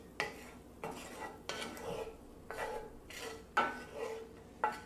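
A spatula scrapes and stirs breakfast sausage and spinach around a pan with the heat off, about seven rhythmic strokes, each a close clattering scrape with a trace of sizzle beneath.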